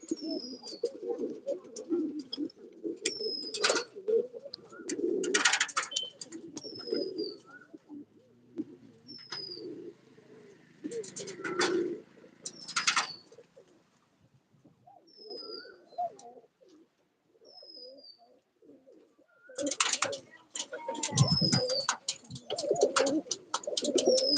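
Pigeons cooing in the morning after being released, with repeated soft coos and occasional chirps at close to moderate distance, some wing flutters and faint background activity, no talking.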